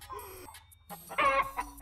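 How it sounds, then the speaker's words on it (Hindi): A rooster clucks in short, fairly quiet bursts within a Hindi TV serial scene, a couple of brief calls against faint background sound. "ये मुर्गा ही डाकू कालिया है"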